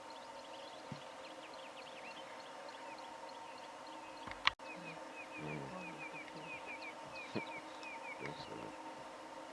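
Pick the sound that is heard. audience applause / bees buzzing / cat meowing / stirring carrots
bees buzzing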